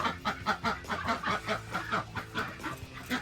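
Rooster and hens in a backyard poultry setup with quail cages cluck in a quick, steady run of repeated calls, close and fairly loud throughout.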